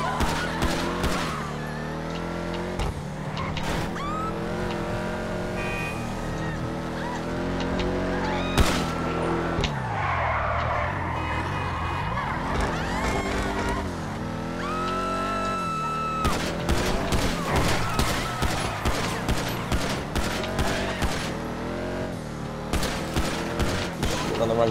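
Gunfire rings out in GTA 5 Online during a drug deal gone wrong, with repeated sharp bursts cutting through a dense, loud game soundtrack and engine noise, clustering heavily toward the end.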